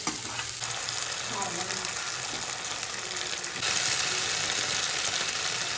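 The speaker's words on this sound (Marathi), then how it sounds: "आता मोठा गॅस ठेवलाय आणि लवकर परतण्यासाठी" Chopped pumpkin stir-fries in a pan over a high gas flame, giving a constant crackling sizzle with scraping stirs that grows slightly louder and hissier toward the end.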